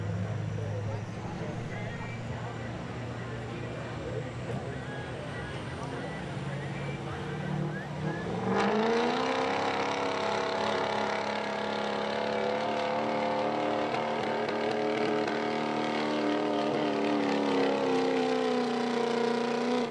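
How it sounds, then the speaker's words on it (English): A 2004 Ford diesel street truck at a truck pull idles, then revs up sharply into a sustained loud, rising engine roar, while an announcer talks over it throughout. "Here's another street level truck coming up on the line. This is Travis Booth, a 2004 Ford, more of a street level truck here"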